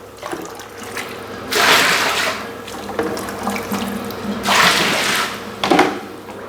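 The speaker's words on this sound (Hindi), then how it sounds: "और तेज़ गर्म पानी इसमें डाल दें।" Hot water gushes from a tap into a tub in two strong pouring bursts with a quieter trickle between them, close and loud, with no talking.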